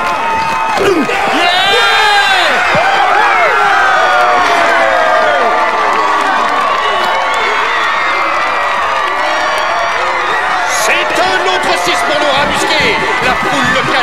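A local crowd at a school football game cheers loudly for its team, a dense continuous roar of shouts and whoops with excited individual voices and someone yelling over it.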